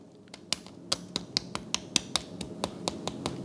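Crispy crackling skin of a BBQ porchetta cooked on a Komodo Kamado, being cut or tapped, giving a run of sharp, dry, close crunchy snaps at a fairly steady rhythm.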